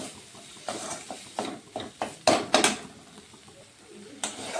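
Turmeric, cumin and coriander powder are stirred in a pan, with a series of short scraping strokes and clinks at irregular intervals, some louder than others.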